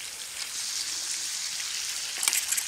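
Eggs fry in bacon fat in a pan over a campfire at an overnight bushcraft camp, giving a steady, close sizzle with a brief spatter of crackles near the end.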